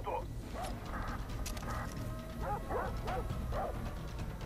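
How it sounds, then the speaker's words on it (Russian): A pack of dogs in the video game Far Cry 3 barks and yips repeatedly in short bursts at mid distance, over steady game ambience with someone talking throughout. "Почему-то опять целая толпа собак."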